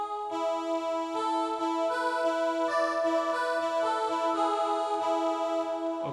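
Choir-style synth pad from the choir 2.0 preset on a Roland MC-505, held as sustained layered chords that shift every second or so, steady and fairly loud with no talking.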